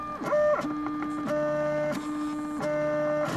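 A Mendel90 3D printer running Marlin lays down honeycomb infill, its stepper motors singing in shifting tonal whines that step up and down in pitch with rhythmic direction changes, close and clear with no talk.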